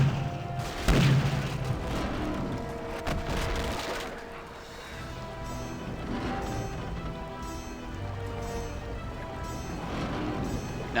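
Ship cannons fire in a naval battle in the video game Pirates of the Burning Sea: a heavy boom lands about one second in, followed by rumbling blasts layered over steady game music and ambience.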